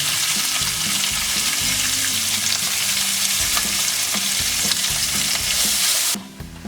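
Cashews and chopped medium-sized onions fry in a pan with a steady, loud broadband sizzle, stirred now and then, holding evenly until the frying noise cuts off sharply near the end; no one speaks.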